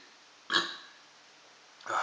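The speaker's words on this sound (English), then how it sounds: "It's making me burp a lot." A burp after eating a fiery Douglah and Chocolate Scorpion hot pepper powder, two short gulping belches heard up close, the second cut off at the end, with no talk over them.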